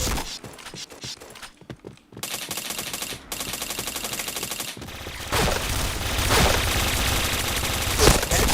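Rapid automatic P90 gunfire in a video game, dense bursts of shots with a short silent gap, then a sustained loud stretch of firing and action noise with no voices.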